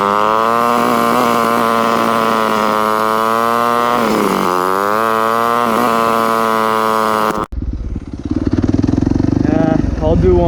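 A Yamaha YZ250F dirt bike does a second-gear rolling burnout, its engine screaming loud and steady at high revs for about seven seconds before cutting abruptly, followed by a rougher, lower rumble as it settles.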